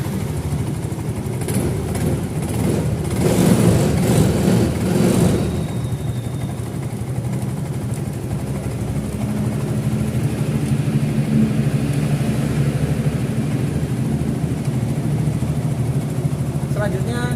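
A motorcycle engine started with the ignition key during a technician's inspection of the electrical and lighting system, idling steadily and fairly close, with a slight rise early on and a voice talking over it.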